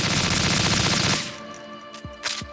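Rapid automatic gunfire in Metal Gear Solid 2: Sons of Liberty, a loud sustained burst that cuts off abruptly, followed by a couple of metallic clinks as casings or debris settle.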